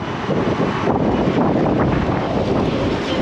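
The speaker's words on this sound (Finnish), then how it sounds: "Nyt on varmaan niin tuulista, että ilman mikkisuojaa ei kuulu" Strong wind blasts across the microphone on a street in Budapest, a loud, continuous roaring buffet with no voices heard.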